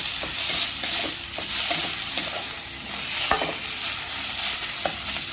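Fish scales coated with turmeric are stirred and fried in a hot pan, giving a steady sizzle and hiss with repeated scraping strokes of the spoon, close and continuous, with no talking.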